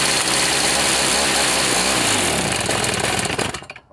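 A two-stroke snowblower engine roars loud and close with a harsh buzzing rattle, then its pitch falls away and it sputters out near the end.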